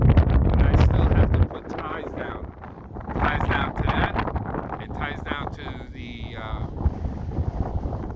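Wind rushing past the microphone outdoors ahead of a rainstorm, a heavy buffeting roar that is strongest at the start and then eases, with a person talking through the rest.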